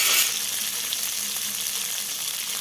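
Yardlong beans and flat beans sizzle steadily as they fry in a pan at a village kitchen, a continuous broad hiss with no talking over it.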